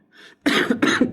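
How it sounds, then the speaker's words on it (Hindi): A single close, loud cough in two harsh bursts, preceded by a brief intake of breath. "खांसी चल गई"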